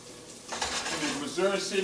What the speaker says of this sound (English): Now next we're sauteing the onions right here a little bit